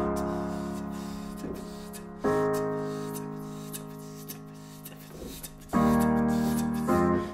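Solo piano plays the intro of a song as a looping chord pattern, with sustained chords re-struck at intervals and lighter notes between them, close and moderately loud with no voices.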